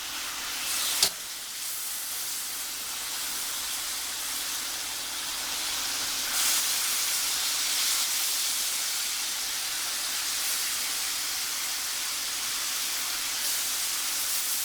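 Daikon bacon frying in a pan gives a steady, close sizzle and hiss throughout, with a sharp pop near the start and a slight swell in intensity midway. No one speaks.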